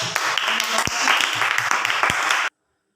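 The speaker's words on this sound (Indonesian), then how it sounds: "kita kasih tepuk tangan dulu untuk kelompok" Students in a classroom clap for a group of classmates, a dense patter of hands held steady for about two and a half seconds before cutting off abruptly.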